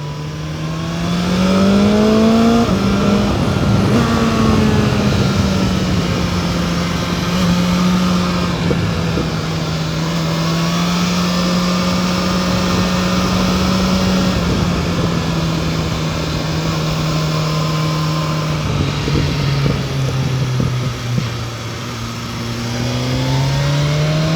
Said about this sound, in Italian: questo 4 in linea si sente chiaramente